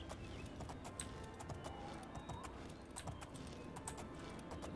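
Rhythmic horse hooves clip-clopping steadily in the video game The Elder Scrolls IV: Oblivion, over a dense, constant background, with sharp regular strikes throughout.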